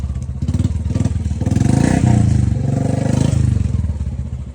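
A Bullet motorcycle idling up close, its single-cylinder engine thumping in a loud, steady rapid beat with slight swells in pitch, alone without talk.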